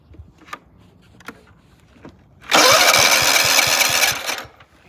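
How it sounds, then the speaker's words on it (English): A riding lawnmower engine is cranked with a few faint clicks, then catches and roars loudly for about two seconds, up close, before the sound cuts off. "Hopefully she'll crank up."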